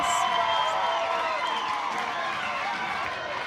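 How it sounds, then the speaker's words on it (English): A softball crowd at an NCAA regional game cheers as Omaha ties it with an extra-base hit, a broad sustained roar with some clapping and whoops in the distance, fading slightly toward the end. "Their crowd loves it."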